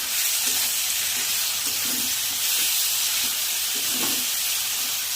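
Spices with a little turmeric and sugar are stirred in a sizzling frying pan for a vegetarian dish: a steady, loud hiss of frying runs throughout, broken by regular scraping strokes of the spoon.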